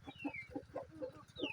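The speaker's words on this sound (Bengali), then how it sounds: "আর এখানে সব বাচ্চা মুরগি আছে" Baby chickens in a village farm coop cluck and peep in short repeated calls over a low rapid rhythmic thrum, faint and brief, with no talking.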